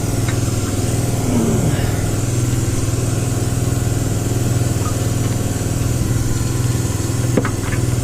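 A small engine idles with a steady, slightly uneven low chug, misfiring on one cylinder because of a chewed-through wire, close and continuous with no talking.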